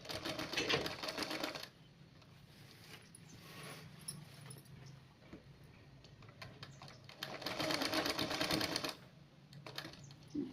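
A sewing machine stitching a saree border runs in two bursts of quick, even mechanical whirring, one at the start and one near the end, with quieter handling noise between them.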